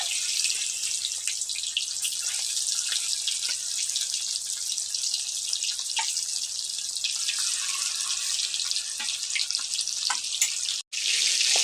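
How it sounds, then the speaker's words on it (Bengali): Fish fry in leftover oil in a pan, giving a loud, steady, hissing sizzle that runs without pause and drops out for a moment just before the end. "এখানে বেঁচে থাকা তেলটা যে আছে তার মধ্যে আমি বাকি মাছগুলোকে ভেজে নেব"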